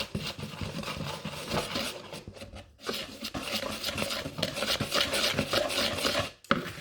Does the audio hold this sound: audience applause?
no